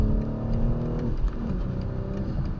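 A 2021 BMW M4 engine revs hard and steadily, its droning pitch rising and falling as the car spins, with tires and whirring underneath.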